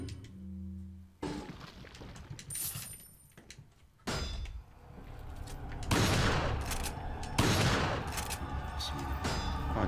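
Shotgun blasts in the video game Resident Evil 4, several sharp booming reports spaced a second or two apart over game ambience, loud and close, with someone talking briefly in between.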